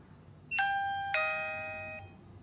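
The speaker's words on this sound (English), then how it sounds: "And for the lock, it also comes with one doorbell." The doorbell of a TENON A5 smart lock sounds a clean two-tone ding-dong chime, two bright electronic notes in quick succession ringing out and fading over a quiet room hum.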